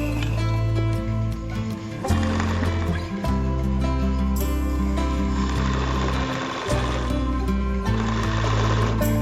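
A sewing machine topstitching the pleats of a school uniform skirt, running steadily and close up with a continuous motor hum and brief pauses between stitching runs.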